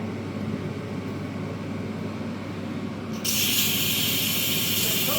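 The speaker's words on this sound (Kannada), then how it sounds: "ಇದು ಕುಕ್ಕರ್ ವಿಷಲ್ ಬಂತು, ಇನ್ನೊಂದ್ಸಲಿ ಬಂದರೆ ಕರೆಕ್ಟ್ ಆಗುತ್ತೆ" A pressure cooker whistle starts partway through as a sudden loud, steady hiss of escaping steam while Bisi Bele Bath cooks in a home kitchen. The hiss continues unbroken over a low background hum, close by.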